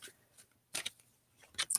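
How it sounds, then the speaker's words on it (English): Oracle cards being shuffled by hand give brief, soft riffling flutters in two quick clusters separated by near silence, close and quiet. "Let me shuffle these guys."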